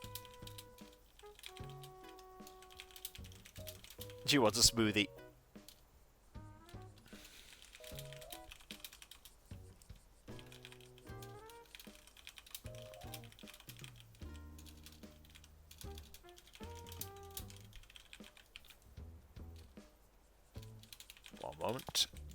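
Bursts of computer keyboard typing, close and quiet, come in uneven clusters while a person speaks briefly and soft game music plays underneath.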